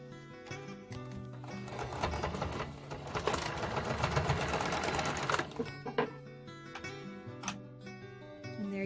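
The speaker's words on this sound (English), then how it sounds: "another way you can do it if you don't want to do it that way is sew it on with the machine" Sewing machine stitching braided rug strands together, a steady mechanical chatter running for several seconds, then slowing into short bursts and stops near the end.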